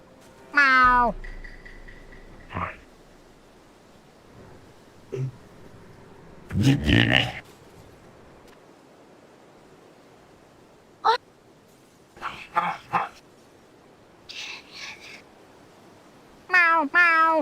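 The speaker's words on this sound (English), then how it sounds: "Meow, meow." A cat meows repeatedly in short, rising cries, some drawn out, separated by pauses and a few soft bumps and rustles.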